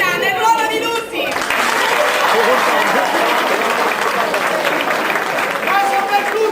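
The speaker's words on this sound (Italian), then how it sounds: "un applauso alla signora!" Audience applause at a theatre performance of a Sicilian-language play, a dense, loud wash of clapping that swells after a brief dip near the start and holds steady to the end, with voices mixed into the crowd.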